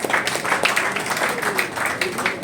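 A gathering at an India Islamic Cultural Centre event claps in a brief burst of fairly loud, uneven applause, with voices audible underneath.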